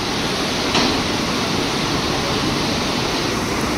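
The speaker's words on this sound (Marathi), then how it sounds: "आपण नदीचा फ्लो बघू शकता, एकदम अशी निळी छार नदी आहे." A fast blue river rushes past the riverside gurudwara at Manikaran, a loud constant roar of flowing water filling the whole stretch without letup or talking.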